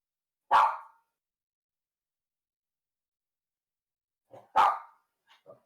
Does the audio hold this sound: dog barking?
yes